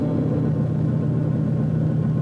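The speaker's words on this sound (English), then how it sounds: "Start the engines and get ready for a vertical landing." A spacecraft's engines rumble steadily during a vertical landing approach over Phobos, a loud, continuous low drone with a constant hum and no breaks.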